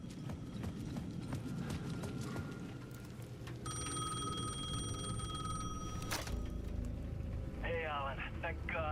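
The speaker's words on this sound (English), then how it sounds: "The payphone at the edge of the plaza was ringing again." A payphone bell in Alan Wake 2 rings in a sustained trill over clopping hoof-like footsteps and ambient noise, with a voice heard near the end.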